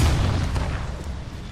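Gunfire in the battle royale game Apex Legends: a dense, booming burst of shots and low rumbling impacts packed into a brief, loud moment, with no talk.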